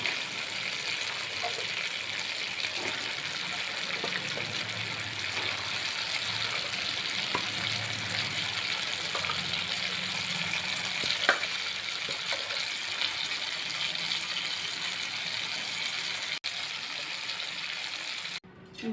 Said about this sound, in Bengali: আমার মশলাটা কষানো হয়ে গেছে, তেল ছেড়ে দিয়েছে। এখন আমি চিকেনটা দিয়ে দেবো।